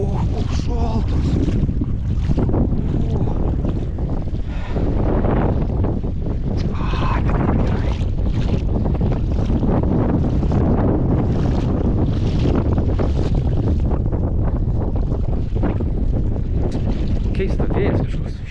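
Strong wind blows outdoors and buffets the microphone, a loud, continuous rumbling roar lasting throughout with gusty surges.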